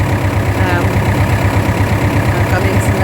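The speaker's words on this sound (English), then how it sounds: "I've gone into low box so that I've just slowed the pace of the tractor down a little bit." A tractor engine running in low-range gear at a slowed pace, making a steady, close, throbbing drone with a rhythmic low pulse throughout.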